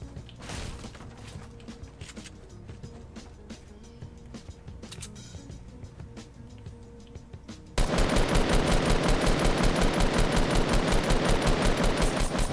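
Gunshots in Fortnite at Snobby Shores: scattered shots and clicks over ambience for several seconds, then a sudden loud sustained stream of rapid automatic fire continuing steadily to the end.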